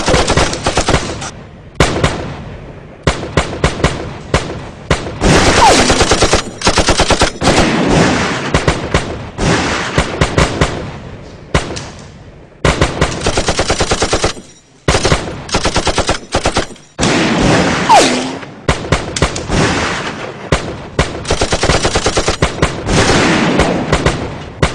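Rapid gunfire in a film scene, a Glock pistol among the weapons, with dense, loud bursts of shots that come in long volleys broken by brief silent gaps.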